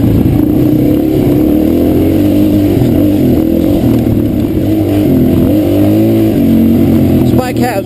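An LBL 200 motorbike engine revs hard on the throttle, a loud sustained drone rising and dipping in pitch up close, ending with a brief burst of higher whine.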